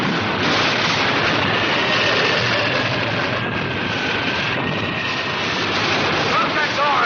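A typhoon at sea in a radio drama, with a dense, loud, unbroken roar of storm wind and crashing waves filling the scene at full level.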